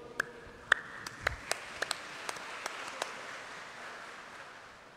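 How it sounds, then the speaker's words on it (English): A church congregation at Mass claps briefly for the Immaculate Conception feast, a handful of sparse, separate hand claps over about three seconds, fairly faint in a reverberant hall, then fading to quiet room tone. "Let us applaud the Lord."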